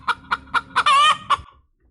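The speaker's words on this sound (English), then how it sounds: "And this is a chicken." A chicken clucks close up in a quick rhythmic series of about six loud clucks, with one longer drawn-out squawk in the middle, then falls quiet.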